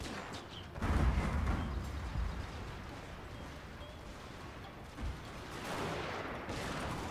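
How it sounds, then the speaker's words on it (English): French Grenadiers fire a musket volley in the Fall of the Samurai strategy game, a loud ragged crash of many shots at once followed by scattered distant gunfire and rumbling battle noise. "the French Grenadiers have opened fire"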